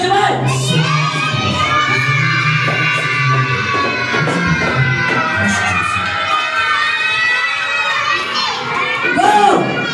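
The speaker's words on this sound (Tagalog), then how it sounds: "Sigaw nyo na lahat! Merry Christmas! Sabay-sabay!" A group of children shout a greeting together in unison, loud and close, with crowd-like cheering and excited kid voices overlapping throughout.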